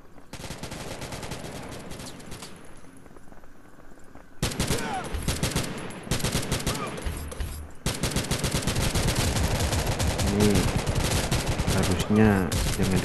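Dense, continuous gunfire from a pistol and a SCAR rifle in the Modern Strike Online shooter game, with rapid overlapping shots and a short lull before the firing resumes.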